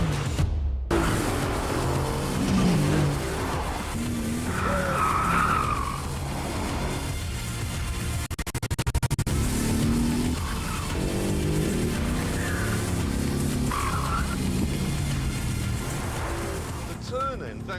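Mercedes-AMG GT R driven hard, its engine roaring and tires squealing through corners in long sustained bursts, with a voice talking over much of the run.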